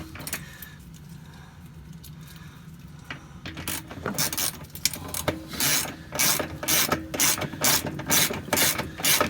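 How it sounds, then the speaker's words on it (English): A 10 millimeter socket ratchet working on a Samsung top-load washer during repair, quiet at first, then a rapid series of sharp clicking pawl bursts in quick rhythmic runs, close and loud, with no talking. "Let's get the socket, again 10 millimeter."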